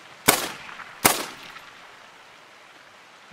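Two sharp rifle gunshots from a .22 in the hunting game The Hunter: Call of the Wild crack about a second apart, each with a short echoing tail, then quiet.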